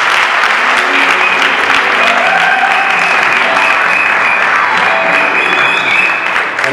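Sustained applause from a large audience at a wedding ceremony, dense and steady clapping at close range that holds loud for several seconds before easing slightly at the end, with a few voices mixed into the crowd.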